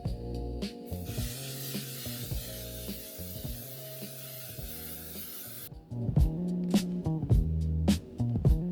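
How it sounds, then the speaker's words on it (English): A long hissing burst of aerosol makeup setting spray mists steadily onto a face for several seconds, set against a soft, repeating background melody. "So all I do is just shake it, and because it's aerosol, it doesn't make your face wet"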